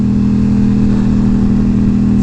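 An Aprilia Tuono 660 motorcycle fitted with a new exhaust and tuned map, its engine running loud and close with a steady droning idle-to-rev growl, no speech over it.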